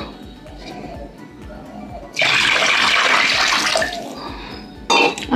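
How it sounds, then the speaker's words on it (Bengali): Water is poured into a cooking pot over fried spices for a potato curry, with a loud gushing splash lasting under two seconds and a short second splash soon after, over faint kitchen background. "আমি এবার জল দিয়ে দেবো।"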